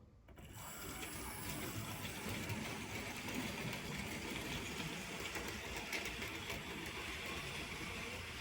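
A Hornby Smokey Joe 0-4-0 model locomotive runs along a model railway track pulling wagons and a brake van, giving a faint continuous whirring motor and rattling wheel clatter.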